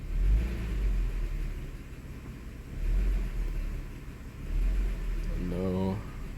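Toyota engine with a misfire, in drive under load after the throttle is snapped, giving a low uneven rumble that swells and sags in rough surges, with a brief rising whine near the end.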